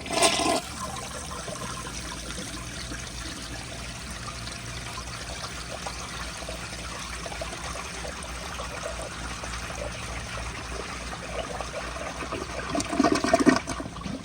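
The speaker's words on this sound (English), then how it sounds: "I will give y'all another flush." A 1970 Kohler Wellworth elongated toilet with a damaged bowl flushing: a loud initial whoosh, then a long steady rush and trickle of water refilling, with a brief gurgling swell near the end.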